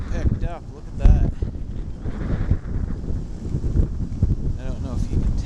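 Strong wind during a major snowstorm buffets the microphone in gusty, rumbling waves while a person speaks over it.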